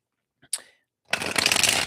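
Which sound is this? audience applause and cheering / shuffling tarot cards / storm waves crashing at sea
shuffling tarot cards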